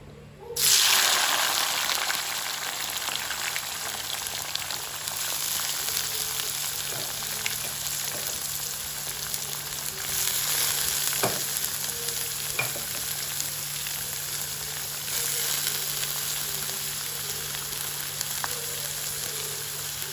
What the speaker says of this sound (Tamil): இப்போ நாங்கள் இதுக்குள்ள வெங்காயத்தை போட்டுக்கொள்ள போகிறேன்.